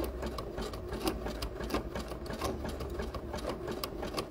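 Sewing machine running a steady zigzag stitch through sequin skirt fabric, a fast continuous mechanical chatter held close and fairly quiet, with no voices.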